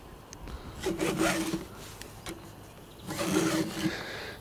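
A metal file rasps across a chainsaw chain in two separate bursts of scraping strokes, close and fairly quiet, with short pauses between them.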